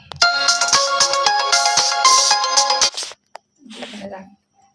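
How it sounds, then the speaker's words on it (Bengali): A phone ringtone plays a bright, repeating melodic tune for about three seconds in a kitchen where a zebra cake is baking, then cuts off; a voice speaks briefly afterward. "আমাকে ফোন আসছে"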